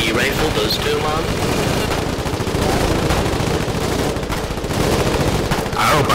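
AD rifle gunfire in the war game Foxhole, rapid loud shots firing almost continuously amid other battlefield gunfire, with voices talking over the din.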